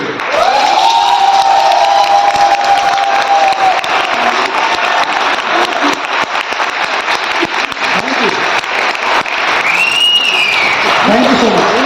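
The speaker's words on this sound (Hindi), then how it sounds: "एक बार और अपने लिए ताली बजाइए।" A large audience at a second-anniversary celebration applauds loudly and steadily with scattered cheers, a whistle-like tone and voices rising through the dense, continuous clapping.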